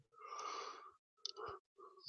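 A drawn-out human yawn: one long breathy exhale, then a shorter second push of breath and a brief tail, close and fairly quiet with no words.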